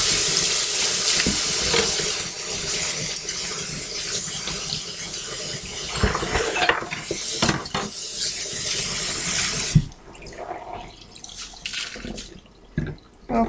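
Tap water runs steadily into a kitchen sink as hands are washed after baking chocolate scones, a close, continuous rush with drips and splashes that cuts off near the end, leaving faint clatter.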